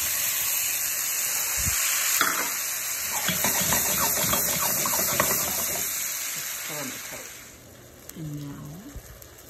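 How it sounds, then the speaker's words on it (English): Peaches simmering in a pan of melted butter, brown sugar and cinnamon, giving a steady hissing sizzle with soft bubbling that fades toward the end, with a voice talking over it. "Simmer and bubble and let the peach juice start releasing into the brown sugar butter goodness."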